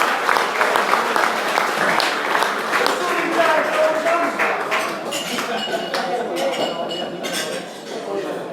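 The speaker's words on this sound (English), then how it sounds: "a nice round of applause please in the corner there" Audience applause at a Barrow Raiders rugby league sponsors night auction, a dense sustained clapping from a crowd indoors, fading slightly toward the end, with a voice speaking over it.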